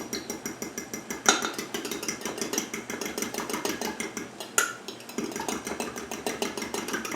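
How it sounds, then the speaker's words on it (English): A whisk beating a cornstarch sauce mixture in a bowl, a steady rapid rhythm of light metallic ticks against the bowl, close and continuous with a couple of brief louder knocks, no talking. "You can whisk it, you can use a fork."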